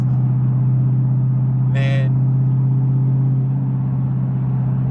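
A steady low exhaust drone fills the cabin of a Roush supercharged 2015 Mustang GT on the stock Roush tune, holding a constant hum throughout while someone talks over it.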